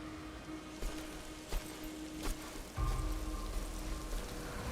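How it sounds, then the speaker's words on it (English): Rain in the Darksiders game falls as a steady hiss with scattered sharper drops and thuds, a low rumbling swell joining midway, no talk over it. "Oh, the rain."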